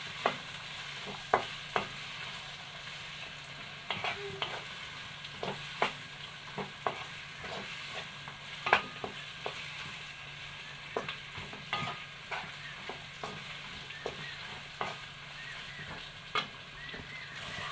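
Tomatoes and ginger garlic paste sauté in a pan for chicken haneeth rice, giving a steady low sizzle with frequent light scrapes and clicks of stirring throughout, close and without speech.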